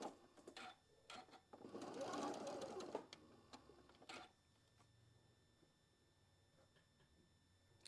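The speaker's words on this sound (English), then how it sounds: "Get your little leader started and go ahead and get this sewed." A sewing machine stitches quilt block pieces in a quick, close whirring burst of about two seconds, with scattered clicks and handling sounds before and after, then quiet.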